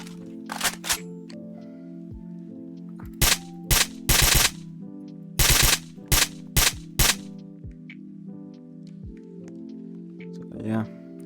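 Suppressed gunfire in a Roblox first-person shooter game, a handful of short muffled bursts and single shots scattered through the clip over a steady electronic game soundtrack.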